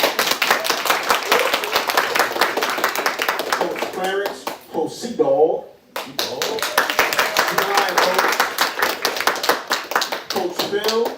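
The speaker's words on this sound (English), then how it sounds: "Y'all clap it up." An audience at a city council meeting breaks into brisk, sustained clapping, a dense run of sharp hand claps with a short lull in the middle, while a voice speaks over it.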